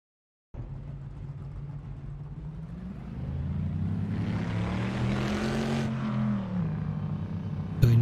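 Bizzarrini sports car engine in the Assetto Corsa racing game, a deep, steady rumble that starts suddenly, builds in intensity and revs higher midway, then settles, with no talk.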